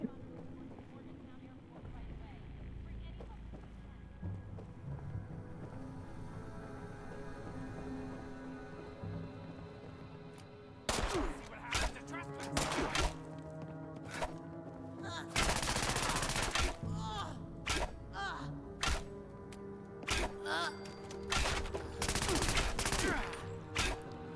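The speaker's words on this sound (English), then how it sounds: "Like, yeah, I hear gunshots, but no one's actually managed to land a hit or even..." Gunfire in the video game Fallout 76, bursts of shots and rapid automatic fire cracking loudly in clusters over a steady game background, with a player talking throughout.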